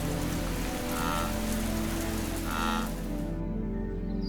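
Rain falling on the African savanna in Tanzania, a steady, soft hiss of drops that runs throughout, with a couple of faint low animal calls in the background.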